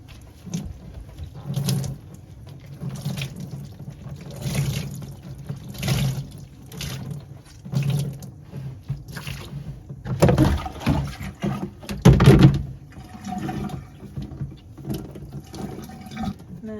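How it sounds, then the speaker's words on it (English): A felted wool crochet hat is squeezed by hand, not wrung or twisted, releasing water in a series of close, soft squelching presses and drips, with a few stronger splashy squeezes later on. "just squeeze out as much of the water as you can"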